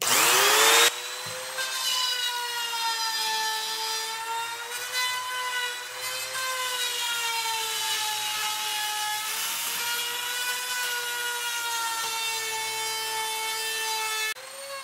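A Makita trim router with its cutting depth limiter set cuts through wood, giving a loud, steady high-pitched motor whine that holds for about fourteen seconds with no talking.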